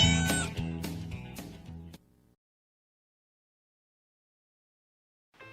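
A cat meows a few times in quick succession, loud and close, inside a radio advert for a Chevrolet dealership on South Memorial Drive in Prattville, followed by silence and a brief tonal sting at the end.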